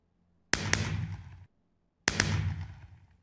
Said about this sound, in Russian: Кто фейерверки запускает?